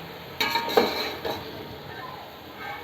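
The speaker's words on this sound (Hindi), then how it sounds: "अब मैं इनको 2 से 3 मिनट के लिए भूनूंगी" Chicken with spices sautéing over high heat in a pan, a few scraping stirs and metallic clinks of the spoon over a light background sizzle, brief and close.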